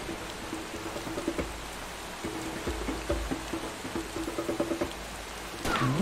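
Steady patter of rain in Far Cry 2 with scattered light drops over a faint tonal hum, continuous and moderately quiet, no voices.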